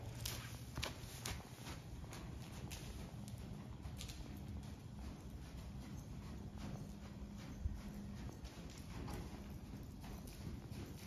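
A horse walks in an arena, its hooves clip-clopping in a steady rhythm against a continuous background hiss, with no talk.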